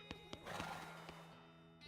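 A horse neighs in the video game West of Loathing, a wavering whinny over a few clip-clop hoof knocks, moderately loud and without speech.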